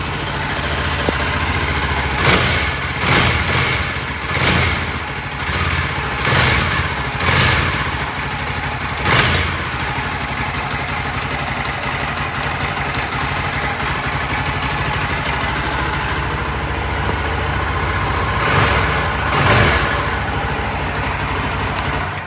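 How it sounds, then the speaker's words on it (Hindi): A 2023 Yezdi Scrambler motorcycle engine idles steadily, broken by a series of sharp revs in quick succession early on and two more near the end. "बाइक को कर लेते हैं थोड़ा सा रेव।"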